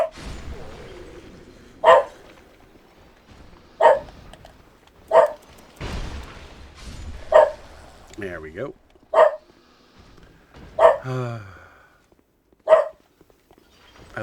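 A pet dog barks in sharp single woofs roughly every two seconds, about eight in all, loud and close, with a person talking in between.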